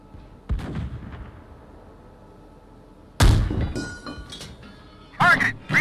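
Two heavy booming blasts of an M1 Abrams tank cannon in the PC tank game Gunner HEAT PC, one early and a sharp loud one mid-clip, with a further burst near the end and a voice speaking briefly between.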